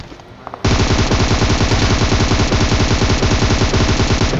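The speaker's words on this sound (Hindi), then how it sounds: "अब हमको आगे से कुछ फायरिंग की आवाज़ आ रही है" Sustained rapid automatic gunfire in PUBG Mobile bursts in loud and close after a short quiet start, hammering continuously without a break.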